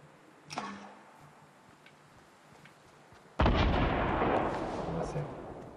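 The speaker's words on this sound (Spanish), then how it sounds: "se escucha mucho tiroteo" Gunfire in the video game Fortnite: a few faint shots early, then a sudden loud burst of sustained, dense shooting from about halfway on, continuing steadily to the end.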